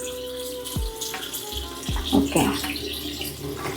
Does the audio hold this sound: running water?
yes